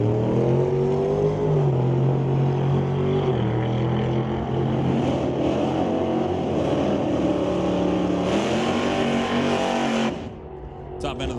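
Drag race cars roaring down the track at a National Tire Wholesale Pro Race, a sustained engine drone with shifting pitch that cuts off abruptly near the end, heard under an announcer's commentary.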